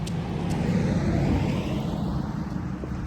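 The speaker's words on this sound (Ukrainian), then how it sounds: "Зараз поїде машина." A car drives past outdoors, a broad low rumble that swells and then eases, with some wind noise over it and no talking.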